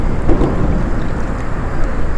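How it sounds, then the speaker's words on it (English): Strong wind at a lakeside fishing spot near a bridge rumbles and buffets the microphone in a steady, roaring low wash, with no voices. "Sorry about the wind."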